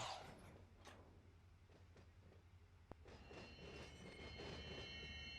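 Railcars roll through a hump yard in the Run 8 Train Simulator game, giving a steady low rumble with wheel squeal, high metallic tones building toward the end, and one sharp clank midway.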